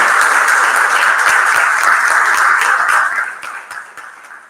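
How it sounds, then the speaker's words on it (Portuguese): Audience applause at a seminar, a dense crowd of clapping hands sustained loudly for about three seconds before tapering off and fading. "uma salva de palmas a todos que se envolveram a este projeto brilhante"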